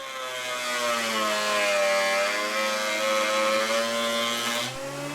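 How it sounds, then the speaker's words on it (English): A woodworking jointer runs as guitar body blanks are passed over its spinning blades to square the gluing edges, giving a steady loud whirring hum with a faint cutting rasp that stops abruptly at the end. "run the gluing edge of the blanks over the blades of my joiner to square up those edges and make them as perfect as possible"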